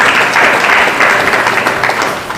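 A congregation at a Hindi-language church service claps together in praise of God, a loud, steady wash of many hands clapping that fills the whole moment without pause.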